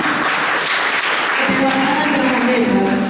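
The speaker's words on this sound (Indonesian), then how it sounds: "Terima kasih, tepuk tangan untuk kita semua." An audience at a campus election-awareness event in Tegal claps in a loud, steady burst of applause, with a voice mixed in.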